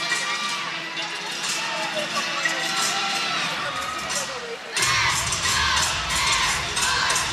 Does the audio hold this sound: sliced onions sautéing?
no